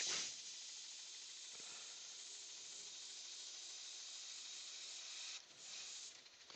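Heavy coat of black paint sprayed in a long, steady hiss, close and fairly loud, with a brief break near the end before the spray resumes.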